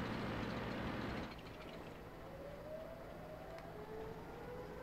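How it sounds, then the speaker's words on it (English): Siren in the World of Tanks video game: a faint rising wail over a loud low rumble that drops away after the first second. "You mean the siren?"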